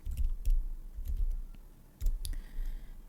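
Mouse clicks while browsing in Google Chrome to download CodeBlocks, a few sharp close clicks spread unevenly over a quiet background with light handling noise.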